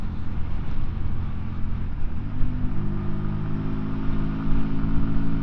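A QJMotor SRV125 125cc motorcycle engine droning steadily under load, riding uphill into a headwind with wind rushing past, the pitch shifting slightly as it labors on.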